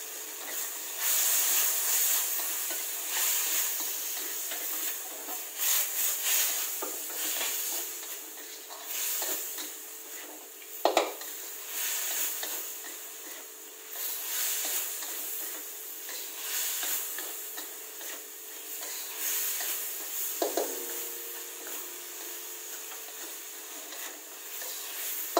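Red chili peppers are stir-fried in a wok with a steady, soft hiss of frying, broken by a few sharp spatula clinks and scrapes, with no talking.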